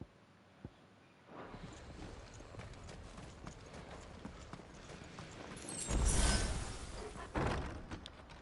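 Hooves of Odin's flying horse in Final Fantasy XVI clip-clop quietly in a loose rhythm, building to a louder burst of impacts near the end, with no talk.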